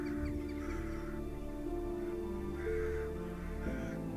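Crows cawing out of doors, a few harsh calls rising over a steady tonal drone, at moderate distance and with no talk.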